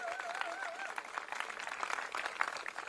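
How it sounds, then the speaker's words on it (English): A crowd at an outdoor Pride flag raising applauds elected officials, a steady patter of clapping heard from some distance, with a brief wavering whistle-like tone early on. "give a round of applause to the other elected officials who are here"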